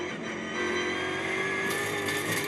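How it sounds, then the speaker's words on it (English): A GT4 race car engine drones loudly and steadily at Spa, with a whining gearbox tone layered over the continuous roar, no voices. "Love this engine and all the noise from the gearbox."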